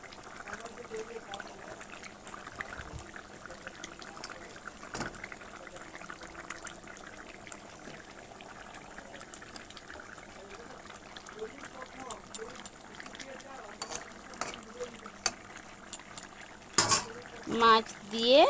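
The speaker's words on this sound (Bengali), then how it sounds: "দেখো ঝোলটা ভালোভাবে ফুটে গেছে। এবার মাছগুলো দিয়ে দেব।" Pieces of fish go into a pot of boiling fish curry; the broth bubbles and simmers faintly, and a short splash follows near the end, with a voice heard at times.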